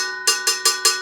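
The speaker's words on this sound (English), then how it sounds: "Change the pattern a little bit when you get to the cowbell" Four evenly spaced metallic cowbell strikes ring out close and bright in a quick, steady variation pattern, each with a short ringing decay, with no voices.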